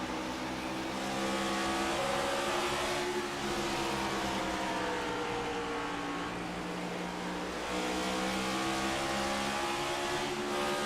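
Stock cars from a Cup Series sim race at Bristol roar past in a tight pack, their engines droning loud and continuous with rising and falling pitch as they run side by side through the lap.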